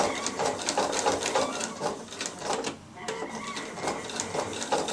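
A sewing machine stitching piping around a thick quilt corner, a steady rapid needle chatter running nearly continuously with a short pause partway through, close and moderately loud.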